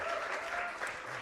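Conference audience at the Interledger Summit mainstage giving a quick clap, a brief, dense wash of many hands applauding together, steady and somewhat distant throughout.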